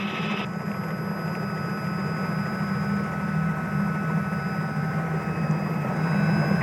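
A steady, droning Robinson R66 helicopter engine hum while taxiing fills the whole stretch, continuous and fairly loud, with a low rumble and a faint high whine, no talking.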